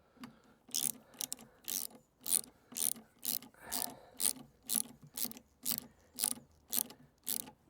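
A ratchet wrench tightens crash bar bolts on a CF Moto MT 800 motorcycle, about a dozen evenly spaced rasping clicking strokes, close and alone.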